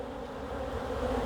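A dense mass of bees drones at a bee farm in Baton Rouge, a continuous low buzz that holds steady and close throughout the short stretch.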